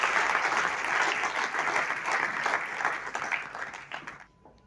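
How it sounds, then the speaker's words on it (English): Thick, sustained applause from a large audience welcoming a Kargil war veteran colonel to the stage, steady for about four seconds before tapering off quickly into near silence. "Kindly give a big round of applause."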